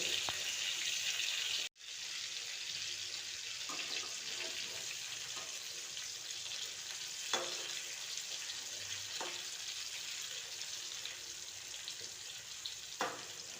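Stuffed brinjals frying in oil in North Karnataka style give a faint, continuous sizzle. A brief dropout comes early, and a few soft clicks and stirs follow, with no voices.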